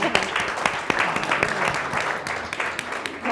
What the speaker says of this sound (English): Clapping for the response